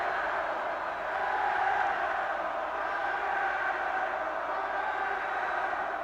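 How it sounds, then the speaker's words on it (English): A steady, dense roar from the crowd at an LSU versus Mississippi State college basketball game fills the arena continuously, loud and even, with no break in the noise. "Mouton, Tracy, listen to the crowd."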